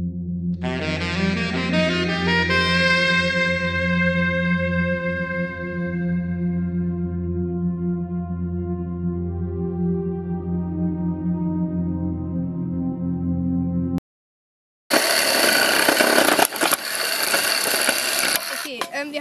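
A power saw cuts wooden beams for a mountain bike slopestyle jump build: a steady, droning motor hum runs for a long stretch, then a harsh, loud cutting burst follows after a brief pause.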